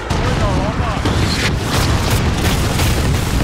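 Dense, continuous booming and blasts from AC-130 gunship fire in Call of Duty Modern Warfare, loud and relentless, with gunfire bursts and a voice talking over the barrage.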